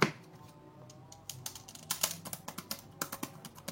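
Typing on a Goojodoq wireless keyboard: a run of sharp, close key clicks, sparse at first and then a quicker, fairly even patter of presses, with no talking.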